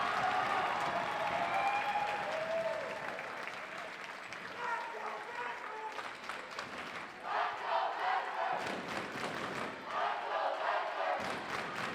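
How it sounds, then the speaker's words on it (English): Volleyball fans chanting and cheering inside a high school gym during a timeout, a loud crowd roar with rhythmic chant pulses later and an announcer talking over it. "And you hear the chants."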